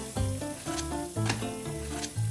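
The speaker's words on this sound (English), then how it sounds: "can you hear that sizzle?" Blueberry banana pancake batter sizzling in a hot pan, a steady crackling hiss with some clinks and tonal background sounds over it.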